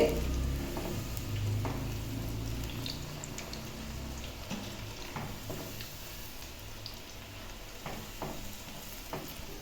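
Cauliflower (gobi) pieces deep-frying in hot oil give a steady, soft sizzle with scattered crackles and pops throughout. The frying stays fairly faint and sounds close by, with no talking.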